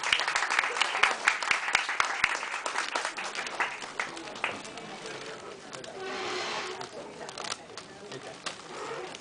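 An audience at a literary and poetry evening in a café claps in a burst of scattered, moderately close hand claps, followed by talking, with pigeons cooing faintly in the background.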